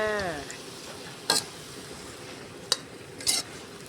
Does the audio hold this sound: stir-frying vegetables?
yes